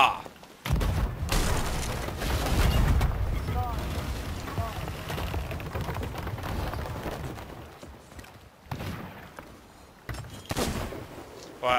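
Cannon fire from a pirate ship in Sea of Thieves, booming shots over the creak and splash of sailing, with players talking throughout.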